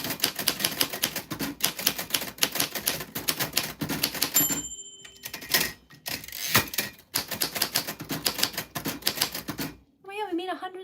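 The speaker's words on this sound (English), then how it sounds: "So I'm typing some things so that you can hear it." Rapid typewriter keystrokes clatter steadily nearby, pausing briefly midway before resuming, with a short chiming tone near the end.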